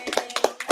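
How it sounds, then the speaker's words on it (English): A class of fifth-grade children at an elementary school claps together in a short burst, the claps landing in quick, uneven bunches and sounding fairly close and moderately loud. "Let's clap it up, everyone."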